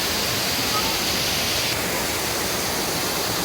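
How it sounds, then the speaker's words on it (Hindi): Rushing stream and waterfall at Ngon Sam Stream in the rain, a steady, loud broadband roar of water that fills the whole clip without pause. "पानी का प्रेशर भी आज बहुत ज़्यादा है और आवाज़ भी आप सुन सकते हैं।"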